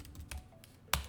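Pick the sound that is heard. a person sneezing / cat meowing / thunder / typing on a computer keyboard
typing on a computer keyboard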